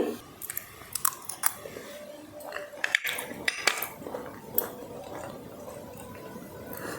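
Someone eats chakkera pongali, a sweet rice dish with coconut pieces, from a spoon, with soft chewing, occasional spoon clinks against a dish and faint crunches, close and quiet, mostly without talk.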